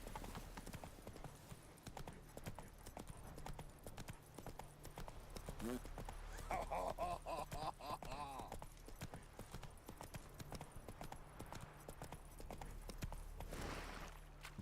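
Horse hooves clip-clopping in The Witcher 3 game, a steady rhythmic trot running throughout under game music and someone talking over it.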